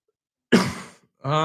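A single harsh cough from a man, close and loud, followed shortly by the start of another throaty burst.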